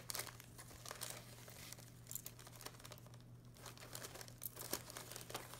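Tissue paper crinkles and rustles as a gift package is unwrapped, with a continuous run of close, soft crackling and small tearing sounds heard alone at low level.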